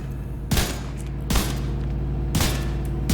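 Three loud, sharp gunshots ring out at uneven intervals in The Division 2 video game, each with a booming echo tail, over a steady low background hum.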